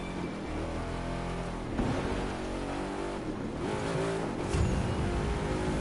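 V8 muscle car in The Crew 2 racing game drifting on dirt, engine revving and roaring steadily with rising and falling pitch and some tire noise, played alone.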